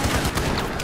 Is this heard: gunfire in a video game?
yes